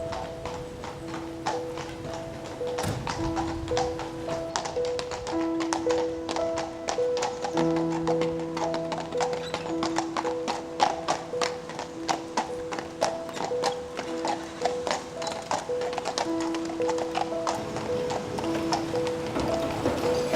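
Horses' hooves clip-clop steadily in an even rhythm throughout a funeral procession, moderately loud, with steady tones humming underneath.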